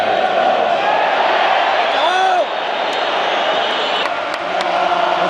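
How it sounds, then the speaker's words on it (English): Sevilla football fans in a stadium crowd, unhappy with their team, roar as a steady loud mass with some whistling and a brief swell of jeering tones, the din continuing unbroken throughout. "Listen to the crowd."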